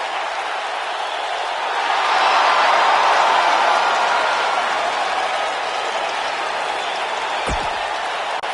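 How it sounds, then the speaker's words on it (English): A boisterous Philadelphia crowd roars in a WWE 2K19 video game wrestling arena, a steady, dense wash of cheering and applause that swells slightly midway. "As usual, this Philadelphia crowd is beyond boisterous tonight."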